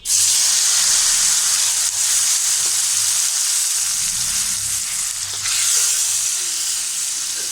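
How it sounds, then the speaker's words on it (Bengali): Chopped onion, green chili and tomato fry in oil in a hot pan, giving a loud, close, continuous hissing sizzle that stays steady throughout with slight dips and swells. "একই তেলের মধ্যে আমি দিয়ে দেব পেঁয়াজ কুচি, কাঁচামরিচ কুচি, টমেটো কুচি"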